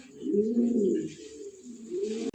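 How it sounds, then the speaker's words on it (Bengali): Fancy Modern Lahori pigeons at a breeding farm give low, rolling coos close by, two or three drawn-out phrases in quick succession. "সর্বোচ্চ কোয়ালিটির কবুতর।"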